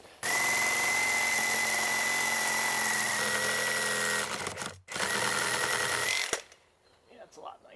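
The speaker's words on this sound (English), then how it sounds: "I'm going to try and use the Sawzall on this post." Sawzall reciprocating saw cutting through a wooden post, a loud continuous buzzing whine that drops out briefly, resumes, then stops, with faint sounds afterward.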